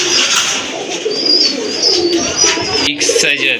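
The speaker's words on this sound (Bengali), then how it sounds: "চলেন আপনাদেরকে কবুতরগুলো দেখাই" Pigeons in a loft of large breed birds coo steadily and close by, a continuous throaty murmur with a few louder calls toward the end.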